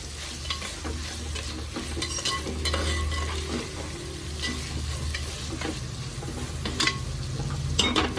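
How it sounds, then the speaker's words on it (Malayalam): Onions and tomatoes sauté in oil for a Kerala mackerel chilli fish curry, a continuous close sizzle with scraping stirs throughout. "ഈ തക്കാളിയും കൂടെ വേവുമ്പോൾ ഉള്ളി കുറച്ചുകൂടെ നല്ലതായിട്ട് വാടിക്കോളൂ"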